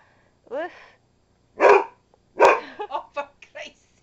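A dog barks indoors to get attention, giving a string of close, loud barks and sharper yips in uneven bursts over a couple of seconds.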